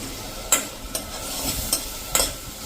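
Bottle gourd curry with a spoonful of sugar and curd being stirred in a pan, a soft steady sizzle broken by four or five sharp spoon scrapes and knocks spaced irregularly, close by with no talk.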